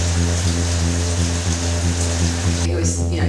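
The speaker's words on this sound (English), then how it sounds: "Listen to the rain now." Rain falls steadily during an outrigger canoe outing, a continuous broadband patter under a low steady hum, with a brief voice or splash near the end.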